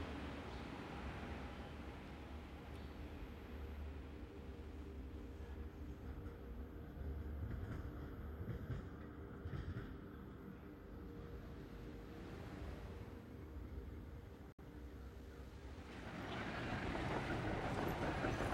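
Steady low rumble and rattle of a moving train heard from inside, continuous and moderately quiet, with a brief sharp click and rising noise near the end.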